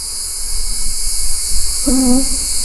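Honeybees hum around an open beehive with a faint, steady high whine, and near the end a single bee buzzes loudly past close by.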